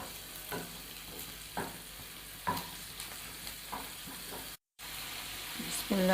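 Ginger garlic paste sizzling in a frying pan with onion, a faint constant crackle punctuated by repeated scraping stirs, with a brief silent cut and a louder clatter at the end.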